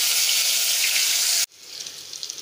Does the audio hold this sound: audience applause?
no